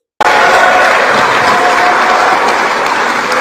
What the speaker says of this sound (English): Guys, I need everybody to clap for Mr. Cyril.